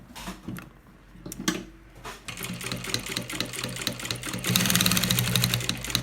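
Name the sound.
sewing machine stitching piping around a baby bag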